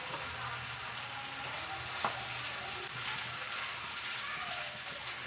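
Cooked rice stirred into chicken fried rice in a hot pan, a continuous soft sizzle with light scraping and one sharp utensil tap, close and steady.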